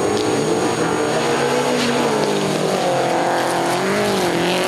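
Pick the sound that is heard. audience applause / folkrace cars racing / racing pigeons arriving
folkrace cars racing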